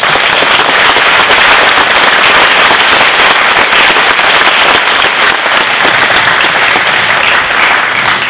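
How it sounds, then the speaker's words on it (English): Applause from an audience at an academic awards night: dense, loud, steady clapping that lasts the whole stretch, with no talking. "So please give them a round of applause."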